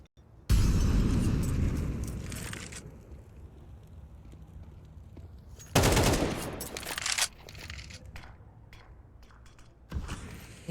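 Gunfire erupts in a Counter-Strike match on Mirage, several bursts of rapid automatic shots at uneven intervals, loud and close, with a few quieter single shots between them.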